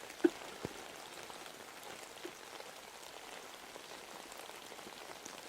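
Gentle rain falls steadily in a soft, even hiss with a couple of faint isolated drips near the start, calm and continuous with no voices.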